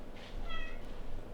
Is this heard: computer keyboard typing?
no